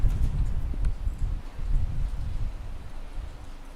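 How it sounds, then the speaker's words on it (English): Footsteps echo through an old building, likely Waverly Hills, as a steady run of muffled, low thuds under a rough, noisy recording hiss, close and continuous throughout. "It's just so hard to hear with this particular audio because you can hear our footsteps."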